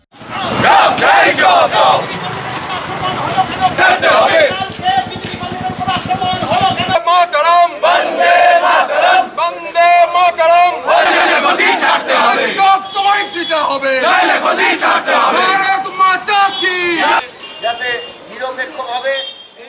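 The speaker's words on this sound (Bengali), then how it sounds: "রাজ্য সরকার সহ পুলিশের বিরুদ্ধে চলে স্লোগান।" A loud crowd of BJP supporters sitting in protest at a police station gate in Hooghly, chanting slogans against the state government and police in rhythmic shouted unison, close and sustained throughout.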